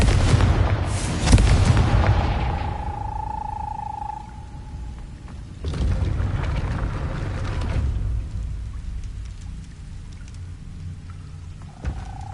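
Confringo blasting spell in Hogwarts Legacy, a loud booming explosion with a rumbling tail, followed by a second heavy blast and lingering low rumble and crackle.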